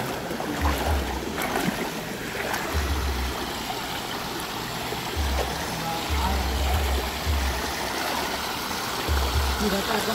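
A shallow stream runs steadily nearby, a continuous rushing wash of water with low rumbling thumps as it pours down.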